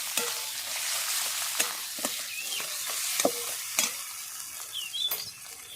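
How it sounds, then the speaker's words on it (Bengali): Boiled, mashed potato fries in a pan as filling for Kolkata sweet-shop style Bengali singara. A soft, steady sizzle runs underneath while a spatula scrapes and taps against the pan at irregular intervals, with no talk. "এখানে দেবো আগে থেকে সেদ্ধ করে ম্যাশ করে রাখা আলুটা এরপর এটা খুব ভালো করে ভেজে নেবো"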